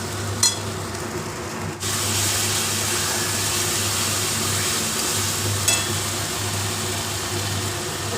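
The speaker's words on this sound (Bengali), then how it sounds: "এবার নুন চিনি হলুদ সব দিয়ে মশলাটা একটু কষিয়ে নেবো ভালো করে" Spice masala with salt, sugar and turmeric sautéing in a pan for Kashmiri alu dum, a steady close sizzle that jumps louder partway through, with faint scraping stirs and no voices.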